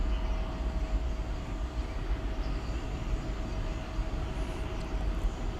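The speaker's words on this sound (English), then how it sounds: "There goes the flight to Phoenix." American Airlines jet departing Dallas Fort Worth at night on a flight to Phoenix, a steady distant rumbling roar held at an even level throughout with no talk.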